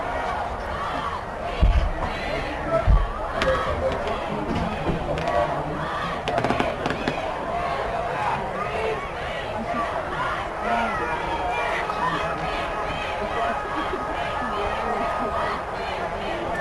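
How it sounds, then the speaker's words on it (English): High school football crowd at a Notre Dame Academy vs Pulaski game, the student section's steady loud chatter and cheering with a couple of sharp low thumps early on. "Student section getting a little louder."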